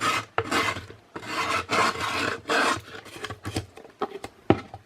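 A sanding block or file rasps against the cut edge of a cardboard oatmeal container in a craft project, with repeated close scraping strokes in an uneven rhythm and no talking.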